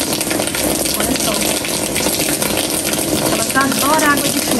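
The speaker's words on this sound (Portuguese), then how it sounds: "Coloquei minhas plantas aqui pra tomar um banho de chuva." Heavy rain pours steadily onto potted plants set outdoors, a loud continuous rushing wash of water, with a voice speaking briefly near the end.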